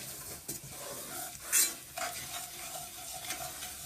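Flour being stirred into garlic that has started to brown in a pan, a soft continuous sizzle with a few spoon scrapes and one sharper clink, quiet and close with no talking.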